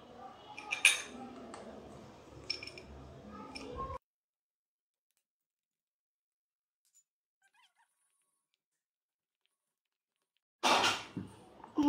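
A spoon stirring eggless semolina cake batter with raisins, making squeaky scraping clinks against the bowl for a few seconds, then a long silence before a short final burst of mixing.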